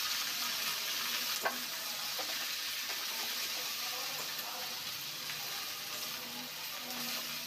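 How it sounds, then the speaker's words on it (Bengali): Onions sizzle and fry in oil in a pan while greens are being cooked, a steady crackling hiss with occasional stirring clinks, alone without talk. "আমাদের পেঁয়াজ ভাজা মোটামুটি শেষের দিকে।"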